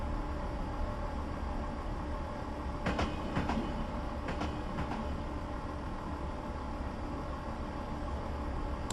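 A train runs in the Train Simulator 2015 video game, a steady low rumble of rolling stock with a few sharp clickety-clack wheel-over-joint clicks in pairs, continuous and moderately loud with no talk.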